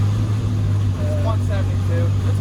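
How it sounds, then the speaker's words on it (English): LT1 V8 engine of a 1996 Impala SS race car idling up at a steady, loud, continuous drone as the mixture is leaned out, with a person talking over it. "She's idling up again because I'm leaning it out."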